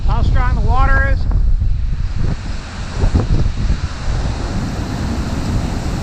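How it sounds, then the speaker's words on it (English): Strong wind roars and buffets the microphone while rough, churning water on Lake Erie crashes steadily during a blizzard. A brief tonal warble is heard near the start. "you can hear the power of the wind and the fury, how strong the water is."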